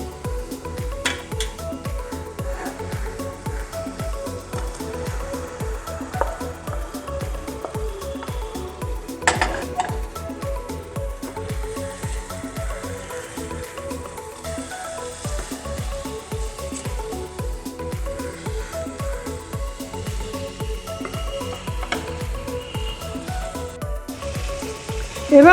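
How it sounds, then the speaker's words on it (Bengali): Chicken is stirred into fried spices in a pan. A spatula scrapes and taps in a steady rhythm over a faint background sizzle, close and continuous. "মশলা ভাজা হয়ে গেছে, এখন আমি চিকেন দিয়ে দিচ্ছি"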